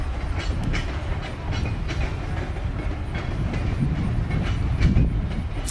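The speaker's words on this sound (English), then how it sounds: "I'll give more details about the train going into the river" A train rolls past steadily with rhythmic clickety-clack from the wheels and a constant low rumble, moderately close, no voices.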